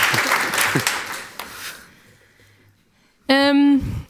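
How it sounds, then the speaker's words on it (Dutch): Audience at a privacy debate applauding, clapping that fades over about two seconds, followed by quiet and then a loud burst of speech. "Applaus inderdaad, dames en heren."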